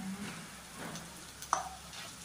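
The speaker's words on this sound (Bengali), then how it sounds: "তো দিয়ে এটা এবার কষতে থাকবো যতক্ষণ না মশলা থেকে তেল বেরোয়।" Chettinad chicken sizzles softly in a pan with ground masala as it is stirred, a quiet steady frying hiss with a couple of light clicks of the spoon, no voices.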